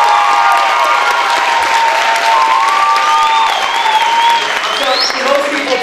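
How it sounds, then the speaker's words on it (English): A crowd at a speech night debate event applauds both teams with loud, sustained clapping and some cheering. Voices and whistle-like calls rise above the applause throughout. "let's give a round of applause to both."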